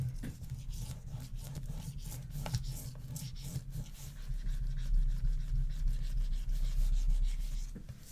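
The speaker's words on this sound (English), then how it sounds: "And then just fold this over and burnish this as well." Folded material being burnished down on a vanity case, a steady close rubbing and scraping that swells slightly louder midway, with no talking.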